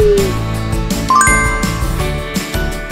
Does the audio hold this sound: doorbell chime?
yes